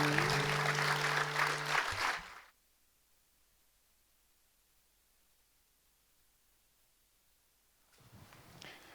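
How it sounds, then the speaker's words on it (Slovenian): Audience applause at a municipal sports awards ceremony, loud and dense for about two seconds and then cut off into near silence, with another burst of clapping rising again at the very end. "Aplavz."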